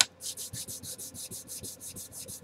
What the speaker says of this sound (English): let me dull this line down a little bit here with the sanding stick